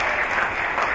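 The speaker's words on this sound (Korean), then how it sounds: "큰 박수 부탁드리겠습니다" A crowd of students and guests at a fashion, beauty and design school entrance ceremony in Seoul gives loud, dense, continuous applause for a moment.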